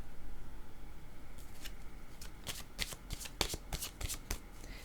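A deck of tarot cards being shuffled by hand, soft riffling at first, then a run of sharp, close card slaps and flutters over a steady background hiss.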